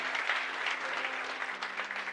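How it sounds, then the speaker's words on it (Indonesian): Congregation applause during a church sermon, a short burst of steady clapping with a low hum running underneath, alone without voices. "Oke, tepuk tangan dulu."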